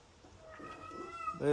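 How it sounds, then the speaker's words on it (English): A cat meows loudly in a brief, rising cry that swells toward the end, with a faint background and no speech. "Damn, that cat's going nuts."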